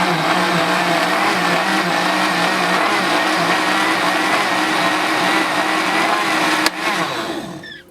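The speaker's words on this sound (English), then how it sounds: "now I'm gonna blend it all in" An electric blender whirs steadily and loudly, blending aloe juice for a Jamaican-style meal. The motor runs for about six and a half seconds, then a sharp click sounds and it winds down.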